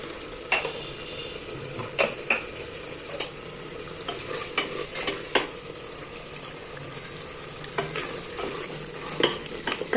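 Brinjal and mutton semi gravy, seasoned with rock salt, fries in a pan with a constant sizzle under frequent scraping and clacking stirs of a spatula.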